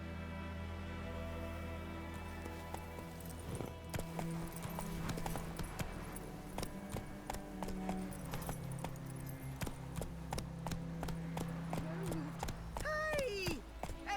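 Roach, the horse in The Witcher 3, gallops with steady rhythmic hoofbeats over a game soundscape of music and ambience, with brief voice-like tonal sweeps near the end.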